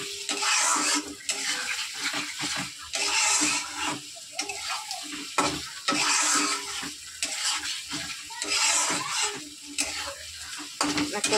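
Eggs frying in a pan of cooked-down spice masala, a steady close sizzle broken by repeated scraping stir strokes and occasional clinks of a spoon against the pan, with no voices.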